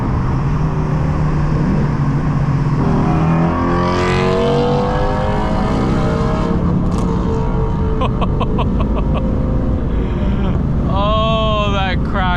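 A Shelby GT350 Mustang roars through a driven run with a rumbling exhaust note, then a series of sharp crackles and pops near the end, all under wind noise and occasional talk.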